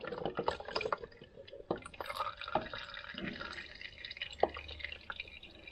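Engine oil drips out after the oil filter is removed, giving faint, irregular drips and small splashes, close by and quiet, with no talking.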